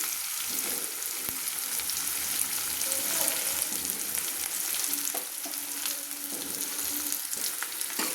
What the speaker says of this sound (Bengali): একটা পেঁয়াজ আমি কুচিয়ে রেখেছিলাম, ধুয়ে রেখেছিলাম, দিয়ে দিলাম। দিয়ে ভালো করে একটু নেড়ে নিচ্ছি।